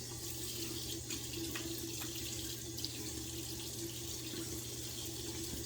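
Water runs steadily from a bathroom tap into a sink as someone wets their face before shaving, a continuous close splashing wash with faint drips and no talking.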